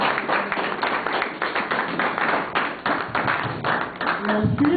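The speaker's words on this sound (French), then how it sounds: "Lorsqu'elle avance, nous acclamons." An event crowd honouring women at a Congolese independence-anniversary gathering applauds as a woman named Maman Nathalie steps forward, dense rhythmic clapping close and loud for the whole stretch, with a voice briefly near the end.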